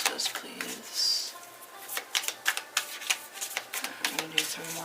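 Tarot cards shuffled by hand, a run of quick crisp riffling clicks and flutters in bursts, fairly close, with a couple of soft low tonal notes in the background.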